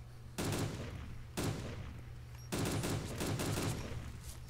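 Gunfire in the video game DayZ Epoch comes in three sharp bursts of rapid shots, close and loud, separated by short pauses over a low steady hum.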